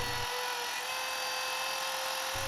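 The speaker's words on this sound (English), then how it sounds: "the other hand holding the router is giving it a little push" A handheld router cuts a door hinge recess freehand in a door edge, with a loud, steady, high-pitched whine that holds continuously from start to finish.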